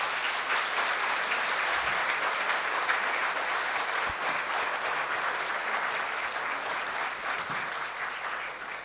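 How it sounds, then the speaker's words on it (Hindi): An audience at a Lok Sabha Hindi Pakhwada 2022 prize ceremony gives a small volunteer team a dense, sustained round of applause, a loud continuous wash of many hands lasting nearly nine seconds and fading slightly at the end, with no speech. "उसके लिए चाहूँगी कि आप लोग जोरदार तालियां बजा दें"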